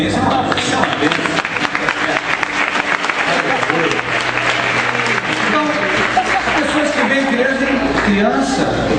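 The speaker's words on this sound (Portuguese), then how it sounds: "Vamos aplaudir o Paulinho." A church congregation applauding a boy named Paulinho, dense and loud clapping filling the space continuously for several seconds, with voices mixed in.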